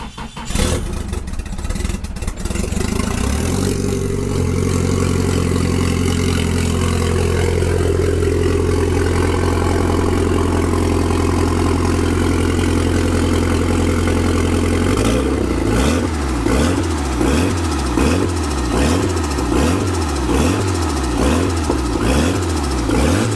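A rebuilt Nissan SR20 engine in an S14 cranks and catches, then settles into a loud, steady idle before breaking into a series of rhythmic throttle blips near the end.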